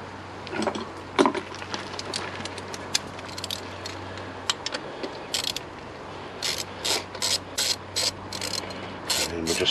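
Ratchet wrench snugging up M6 bolts on an alternator of a 1.4 or 1.6 litre Mini One or Cooper (R50/R52), heard as rapid clicking bursts, scattered early and then in a regular run of short bursts near the end, close and fairly quiet.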